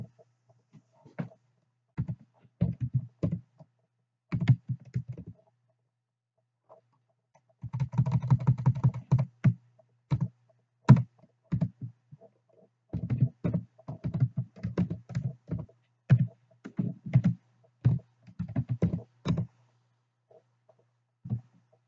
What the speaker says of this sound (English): I'll type it in there.